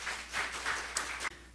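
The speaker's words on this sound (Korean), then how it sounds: "우리 하나님께 박수 올려드려요" A church congregation claps together in a steady wash of applause that is fairly soft and close, then cuts off abruptly near the end.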